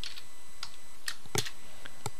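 Computer keyboard keystrokes as a Ctrl plus V paste shortcut is pressed, a handful of sharp separate clicks spaced irregularly over about two seconds, close and fairly clear over a faint steady background hum.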